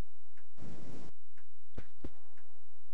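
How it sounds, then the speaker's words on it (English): A ticking clock in the Animal Crossing City Folk video game gives soft, evenly spaced ticks about once a second, with a brief hiss-like burst of other game sound early on. "Can hear the clock going."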